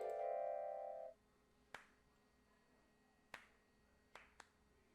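Sharp single clap cues in the Dream Daddy rhythm minigame, a sustained tone fading out and then four isolated crisp hits, widely spaced and soft, with no talk.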